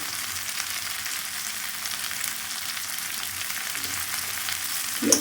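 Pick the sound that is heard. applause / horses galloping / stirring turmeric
stirring turmeric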